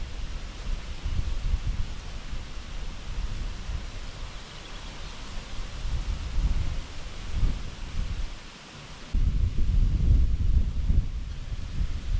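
Gusty wind buffets the microphone outdoors beside a Kirovets tractor that sat all winter, a deep rumbling roar that swells and dips, briefly easing near the middle before surging back louder, with no voices.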